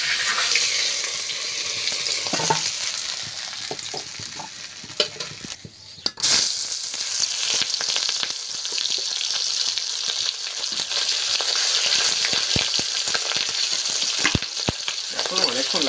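Large fish head and pieces frying in hot oil in a home kitchen, a steady close crackling sizzle throughout with occasional stirring clinks, no talk.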